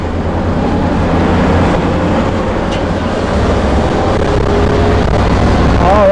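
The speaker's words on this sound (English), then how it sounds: "we'll tell you how this motorhome drives on the highway" A 1997 Safari Trek Pathmaker 2480 motorhome driving onto a highway gives a loud, continuous engine and road rumble inside the cab, with broad wind and tyre noise that grows slightly toward the end.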